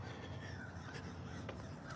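Several crows caw intermittently at a distance over a constant low outdoor rumble, the harsh calls spaced unevenly.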